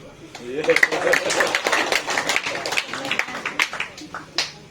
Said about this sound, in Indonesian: Ada tepuk.